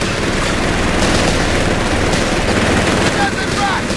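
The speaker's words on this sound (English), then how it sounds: "Silence that MG!" Loud, continuous machine-gun fire and overlapping gunshots from a Company of Heroes 3 4v4 battle fill the whole stretch as a dense, unbroken barrage.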